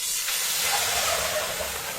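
A loud, steady hiss of liquid sizzling in a hot pan while making homemade molasses with rice, continuous and close throughout.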